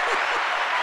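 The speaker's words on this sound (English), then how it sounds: "I was waiting for the applause too." A short burst of applause from a small audience at a game segment, steady dense clapping filling the brief moment.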